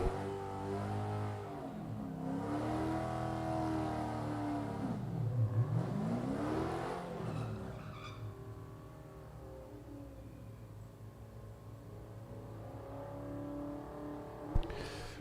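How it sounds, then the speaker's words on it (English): Drag racing at a Lonestar Rivals event: a Dodge Hellcat and a Chrysler 300C sit with loud, rumbling engines, revving and swelling in pitch before settling back to a steady roar. "Rob Welch will bring his Hellcat up here on the left side alongside Cole Godby's 300C"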